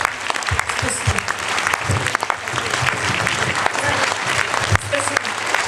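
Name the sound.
applause for a singer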